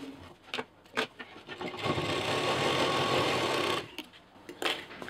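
Sewing machine stitching a quilted cloth bag, a few short clicks and bumps before a steady loud whirring run of about two seconds, then more scattered handling knocks.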